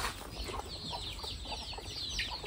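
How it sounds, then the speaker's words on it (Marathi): Free-range country hens in a coop on a goat farm cluck and chirp in a busy, overlapping chorus close by, with no talk. "तर ह्या एकदम प्युअर गावरान कोंबड्या आहेत."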